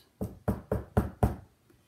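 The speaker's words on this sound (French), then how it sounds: "on entendit frapper à la porte" Five evenly spaced, firm knocks on a wooden door sound close and alone, used as a storytelling sound effect.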